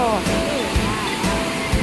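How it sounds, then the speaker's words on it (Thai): Waterfall at Jok Kradin in Thailand, a steady broadband rush of falling water close by, with someone speaking over it throughout. "น้ำตกไหลลงมา"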